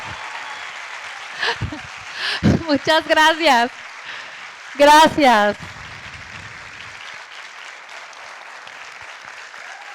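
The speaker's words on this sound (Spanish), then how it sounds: "Así que vuélvanme a aplaudir, por favor." An audience at a motivational conference claps steadily underneath as a speaker near the microphone voices short thanks, the clapping staying as a soft, even wash throughout.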